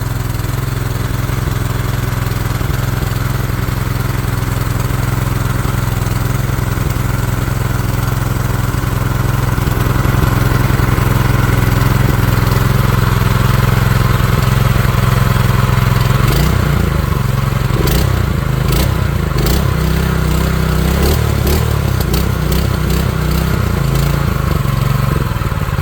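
Predator 212 small engine mounted on a mini bike, running steadily after its first start with a loud continuous idle, then rattling and surging in the last seconds.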